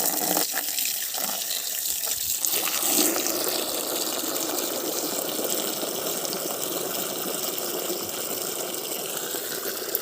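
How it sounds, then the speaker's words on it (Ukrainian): Tap water runs steadily into a container, a continuous gushing fill with a brief splashy change near the start, close and moderately loud with no talking. "Збираю водичку. Водичка у мене набрана."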